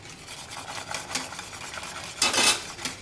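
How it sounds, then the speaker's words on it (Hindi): Cornflour slurry being stirred into a pot of lab-e-shireen dessert, with soft scraping and swirling that builds to a louder burst of spoon-on-pan stirring near the end, no talking. "अब ये जो कॉर्नफ्लोर मैंने डिज़ोल्व करके रखा था, अब ये इसमें छान के शामिल करेंगे।"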